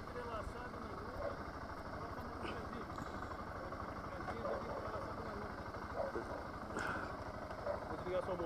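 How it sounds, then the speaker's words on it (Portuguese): A motorcycle engine idles steadily throughout with a low rumbling pulse, while voices talk faintly in the background. "Pode ligar a moto?"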